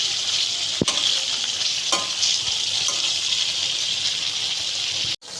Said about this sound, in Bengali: এই যে পনিরগুলোকে হালকা করে ভেজে আমি এই গরম জল করে দিচ্ছি